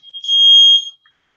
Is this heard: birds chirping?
no